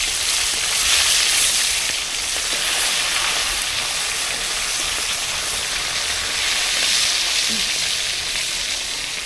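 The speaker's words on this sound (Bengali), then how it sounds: "তাই মাছটা ঢেকে ভাজতেছি" Mrigal fish gently frying in a covered pan, a dense steady sizzle like heavy rain that continues loud and close without a break, with no voices.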